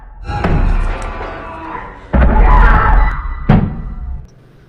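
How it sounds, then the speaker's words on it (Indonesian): Knocking on an apartment door, a few loud heavy thuds spaced apart with a rumbling low resonance between them, close and forceful. "Tak lama ada seorang mengetuk pintu apartemen Junwoo."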